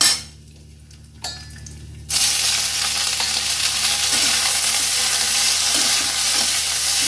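A couple of seconds of quiet with light clinks, then macaroni pasta drops into hot ghee and breaks into a loud, continuous close sizzle that holds steady to the end.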